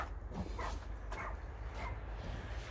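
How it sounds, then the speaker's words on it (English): Yorkshire Terriers bark at an outdoor garden plot, a few sharp barks at a distance, faint, over steady low background rumble. "dogs always find something to bark at"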